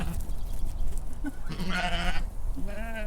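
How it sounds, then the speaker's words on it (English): A few short bleats from sheep nearby, wavering and nasal, over a low outdoor background rumble. "We have some sheep."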